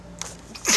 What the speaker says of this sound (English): Well, I got to sneeze.